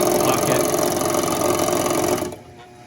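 A rebuilt Fischbein 400 bag sewing machine runs with a loud, steady mechanical whir and rapid stitching clatter, close by, then stops abruptly near the end.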